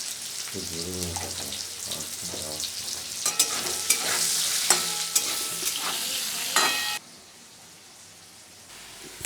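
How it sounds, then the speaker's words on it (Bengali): Potatoes cut into long strips fry in oil with salt and a bay leaf, a constant crackling sizzle broken by sharp scraping stirs, before the sound drops to a much quieter, fainter hiss near the end. "আলুগুলো যাতে তাড়াতাড়ি ভাজা হয়ে যায় যেমন পরিমাণ মতো লবণ দিয়ে দিলাম"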